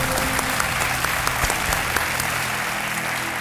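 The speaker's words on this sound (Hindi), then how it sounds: "तालियों के साथ इनका स्वागत किया जाए." Studio audience on the KBC quiz show set claps in steady, dense applause that fills the space, loud and continuous throughout with no voices over it.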